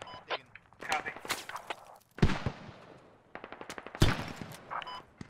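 Bursts of machine gun fire crackle in a Squad video game battle, coming in rapid repeated volleys with short gaps, some loud and close, others more distant, under occasional player voices.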